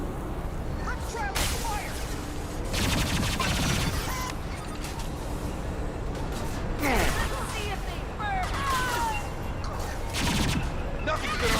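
Gunfire in the Mass Effect 2 video game, with repeated bursts of rapid shots and sharp cracks coming in several volleys through a loud battle din, while voices speak in short bursts between them.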